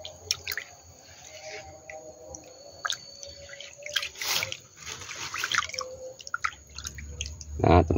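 Coconut water mixed with dissolved palm sugar is poured out, giving intermittent drips, trickles and splashes up close, with a louder gush near the end.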